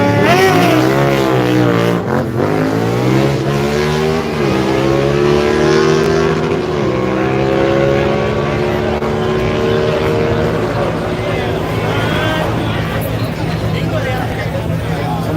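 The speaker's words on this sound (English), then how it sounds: "Somebody doing a burnout." Car doing a burnout at Yello Belly Dragstrip, with engine revs sweeping up and holding as a sustained roar, loud and close, while people chatter nearby.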